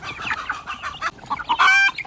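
Chickens cluck and squawk close by in a busy burst, with one drawn-out higher call near the end.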